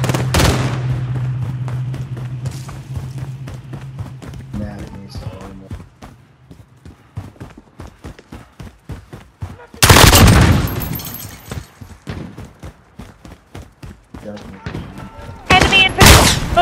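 Rapid bursts of automatic gunfire and single shots in the video game Call of Duty: Modern Warfare crackle close and loud, with heavy volleys near the middle and end, amid faint voices.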